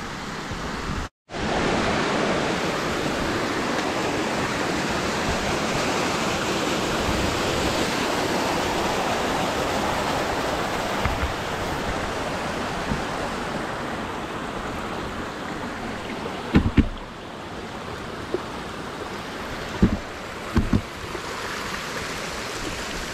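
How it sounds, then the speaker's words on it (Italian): Alpine mountain stream on a traverse in Valle Vigezzo, a loud continuous rushing of water close by, with a few faint knocks and footsteps toward the end. "l'ennesimo corso d'acqua da superare"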